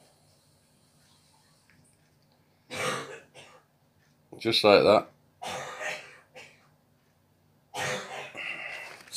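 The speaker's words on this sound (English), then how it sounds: "Sick of coughing." A person coughs and clears their throat in a few separate harsh bursts, close by, with short quiet gaps between them and a brief spoken phrase.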